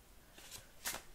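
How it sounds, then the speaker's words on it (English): Tarot cards being shuffled by hand, two quick soft riffles close by, quiet against a faint room hiss. "Let us shuffle."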